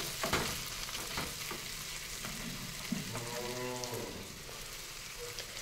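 Marinated mutton goes into a pan of fried onions for a mutton kosha, giving a loud, steady sizzle with occasional stirring scrapes and clatter throughout.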